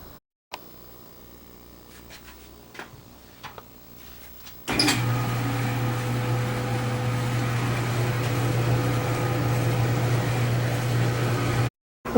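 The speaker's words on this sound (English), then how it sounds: "both the washer and dryer are back in use" A Kenmore dryer runs after a bearing replacement: a steady low hum and whir starts suddenly partway through and continues evenly at moderate loudness until it stops near the end, with faint quieter machine sounds before it.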